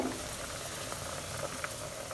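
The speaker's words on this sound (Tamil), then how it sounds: "தண்ணி கொதிஞ்சிருச்சு" A steady, bubbling rush of water at a rolling boil, constant and close, with no voices.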